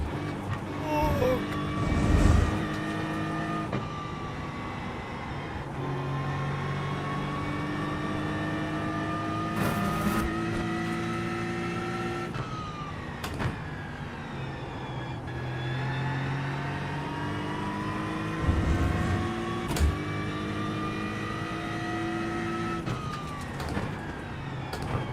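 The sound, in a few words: GT3 race car engine in iRacing video game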